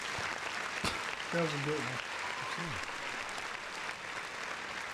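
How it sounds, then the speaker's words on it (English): Steady crowd applause fills the whole stretch, with a voice talking briefly over the clapping partway through. "Round of applause for that."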